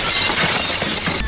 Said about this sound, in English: What is this crashing fucking window sound?